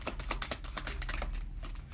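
A deck of tarot cards is shuffled by hand in rapid, uneven bursts of close riffling and flicking, quiet and alone without speech.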